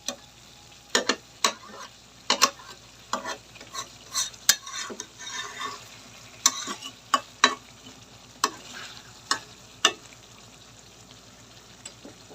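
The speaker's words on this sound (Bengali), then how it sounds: "আস্তে আস্তে জাল দিয়ে সুন্দর করে মাংসগুলো কষা নিতে হবে।" Chicken meat frying over a low flame while spices are stirred through it, a soft continuous sizzle under repeated clicking scrapes of a spoon against the pot.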